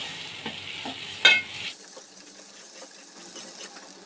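Masala frying in oil over a low flame for misal pav: a brief stir and a sharp sizzle burst, then a soft, steady hiss of gently frying spices.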